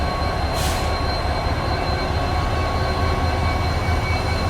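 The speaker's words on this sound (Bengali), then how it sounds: "ছেড়ে দিল আমাদের ট্রেন হাওড়া স্টেশন থেকে।" A train pulls out of Howrah station at a steady, loud roll of wheels on rails, with a brief high squeal near the start and a constant rumbling clatter throughout.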